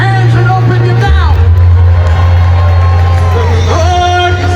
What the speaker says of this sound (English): let me hear you clap your hands and open your mouth